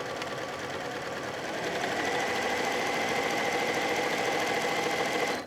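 Domestic sewing machine running steadily along a long pillowcase seam, a continuous close mechanical whir with rapid needle chatter that picks up slightly after the first second and holds without a break.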